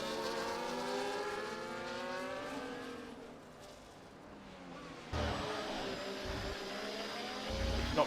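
A Ferrari Formula 1 car in the F1 24 racing game, driving the Singapore street circuit, a steady high engine whine with shifting pitch that drops briefly and then surges louder, with no voices.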